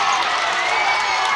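Home crowd at a Pearl River High School girls basketball game cheering in a gym, a steady, loud wash of voices that carries through the whole short stretch.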